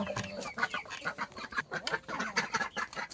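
Several chickens clucking and squawking together close by, a busy overlapping chatter of short calls with no pauses.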